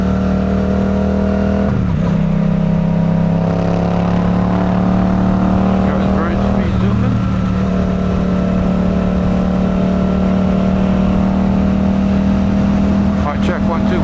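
A 2024 Suzuki GSX-8R motorcycle being ridden in fourth gear, its engine a steady loud drone with a few brief rises and dips in pitch, rolling on continuously.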